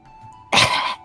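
A single short, sharp sneeze or cough-like burst, close and loud, lasting under half a second against quiet room tone.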